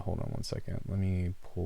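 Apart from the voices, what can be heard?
No everyday noise stands out behind the speech.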